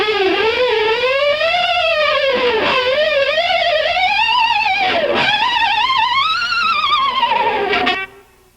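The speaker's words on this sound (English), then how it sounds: "to bend down and up and wiggle at the same time and still hit the harmonics with your left hand" Electric guitar harmonics played slowly while the whammy bar dips down and up with wobbling vibrato. The tone swoops and warbles continuously, loud and close, before fading out at the end.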